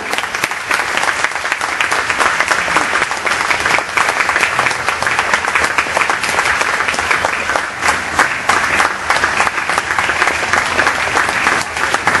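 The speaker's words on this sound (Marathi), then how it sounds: "प्रेक्षकांना विनंती की त्यांनी जोरदार टाळ्यांच्या गजरात त्यांचं स्वागत करावं" A large audience claps loudly and continuously to welcome guests at a Marathi honour ceremony for mothers, a dense, sustained roar of applause with no voices over it.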